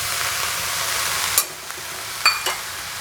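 Idli upma fries in a pan with a steady soft sizzle, broken by a few sharp scrapes and clinks of a spoon stirring against the metal, close and clear.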